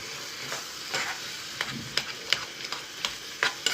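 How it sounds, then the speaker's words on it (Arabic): Tomato sauce cooking in a pan with a soft continuous sizzle, broken by light scraping stir strokes and small clicks of a utensil, close but fairly quiet, with no voices. "هنايا الصلصه تاعنا راهي طيب، نزيد لها نص ملعقه تاع طماطم"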